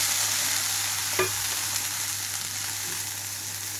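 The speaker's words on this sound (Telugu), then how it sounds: "ఇప్పుడు ఇదే పాన్లోకి కొద్దిగా ఆయిల్ తీసుకుంటున్నాను ఒక స్పూన్ వరకు ఇందులోకి టమాటో వేసేస్తున్నాను" Tomato pieces fry in a little oil in a pan, a steady close sizzle and hiss with a single faint knock partway through, no voices present.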